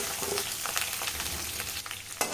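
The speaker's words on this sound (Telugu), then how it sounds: "ఉల్లిపాయ ముక్కలు వేసుకున్న తర్వాత కొంచెం అటు ఇటు తిప్పుతూ ఉల్లిపాయ ముక్కలు దూరగా వేగే వరకు వేయించుకోవాలి" Onion slices, green chili strips and curry leaves frying in hot oil for tomato rice, a steady dense sizzle with light stirring scrapes, close and fairly loud, no voices.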